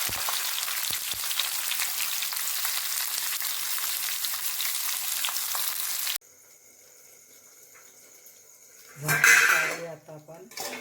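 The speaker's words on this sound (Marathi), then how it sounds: "वांगी टाकते." Brinjal (eggplant) drops into a pan with kasuri methi, curry leaves and a pinch of asafoetida, giving a loud, steady sizzle for about six seconds before quieting, with a voice speaking near the end.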